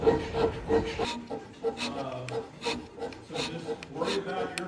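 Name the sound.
hand scraper strokes on wood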